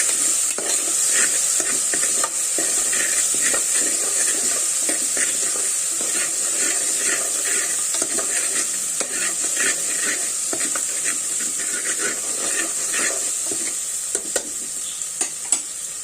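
Ingredients for a pressure-cooker prawn biryani sautéing until wilted, giving a continuous close sizzle with a steady hissy frying texture and faint stirring scrapes throughout.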